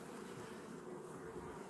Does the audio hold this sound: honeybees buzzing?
yes